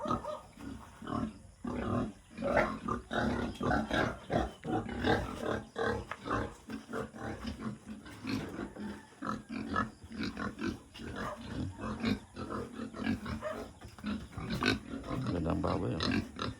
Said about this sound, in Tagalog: Mga baboy. Dami pa ng baboy.